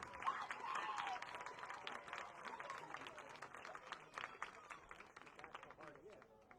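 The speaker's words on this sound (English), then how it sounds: "please give a round of applause to our class of 2025 marching band" Audience at a high school event applauding the Reynolds class of 2025 marching band members, a faint crowd of scattered, uneven claps that gradually thins out, with voices mixed in.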